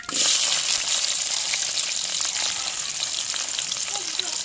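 Big onions hit hot oil in a pan already holding mustard seeds, urad dal and curry leaves for a dried fish curry, giving a loud, close, continuous sizzle and crackle throughout.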